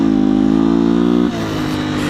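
A 2019 Beta 125 RR S two-stroke dirt bike screams at wide open throttle in second gear, a loud high buzzing note held steady before the rider rolls off and the pitch drops.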